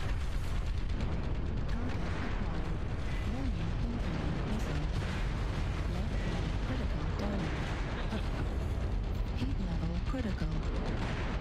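Missiles hammer down in MechWarrior Online, a relentless barrage of loud booming impacts and explosions packed tightly over a heavy mechanical rumble, while a voice talks over the din.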